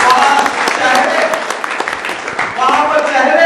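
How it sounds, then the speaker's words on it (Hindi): A crowd at a public political gathering in Karnataka claps loudly and continuously, with a brief dip midway before the applause swells again, voices audible underneath. "वहाँ आपको जोरदार ताली बजानी चाहिए"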